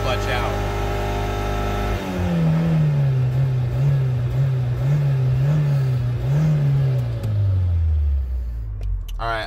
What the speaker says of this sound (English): give her something like full throttle and slowly let your clutch out